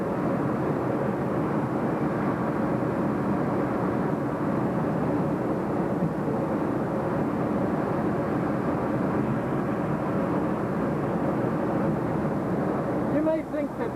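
A propeller tow plane engine towing a glider drones loudly and steadily throughout, a constant heavy rumble with no breaks.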